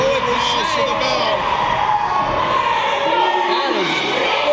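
A wrestling crowd roars and cheers loudly and continuously at a live show, with shouts and whoops rising from the mass of voices and a commentator talking over the din.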